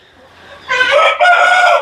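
A fighting rooster over a year old crows loudly and close by in a single harsh, ringing call that breaks briefly before carrying on, heard on its own.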